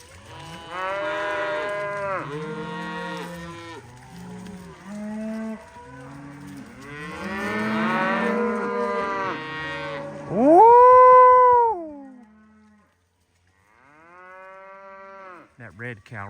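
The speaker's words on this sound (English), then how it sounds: "That red cow right there is a Mashona Angus." Several Mashona Angus cattle on a cold, windy farm moo over and over, overlapping calls near and loud, with one drawn-out bellow standing out before a short lull and more lowing.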